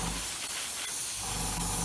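A steady, close hiss of an airbrush spraying aluminium paint on a model aircraft runs the whole time, briefly easing in the middle before resuming, with no talking.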